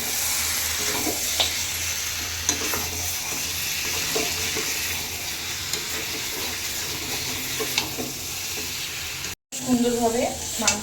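Mutton and potatoes for a Bengali mutton curry sauté in a hot pan, with a steady loud sizzle and intermittent stirring scrapes close up. The sound drops out briefly near the end, and a voice is heard after that.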